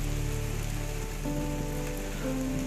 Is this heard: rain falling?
yes